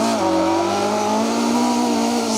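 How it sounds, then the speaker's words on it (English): Rally car skidding on a forest stage of the Woodpecker Rally: a loud, steady engine roar with sustained revving tones carries throughout, close and unbroken, with tyre noise mixed in and no talk. "They're basically just having a big skid,"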